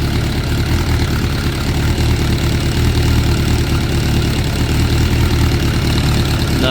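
A 2006 Suzuki GSX 600F Katana motorcycle with carburetor problems idles steadily and loudly nearby, a dense continuous engine rumble with no talking.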